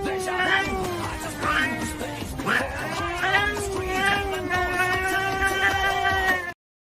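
A singer mimics a cat's meow in an Initial D song, drawn-out wavering meow-like vocal slides over steady musical backing, continuous and loud until an abrupt stop.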